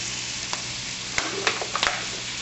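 Vegetables fry in a pan and get stirred, a steady close sizzle with occasional clicks and scrapes from the stirring, and no talking.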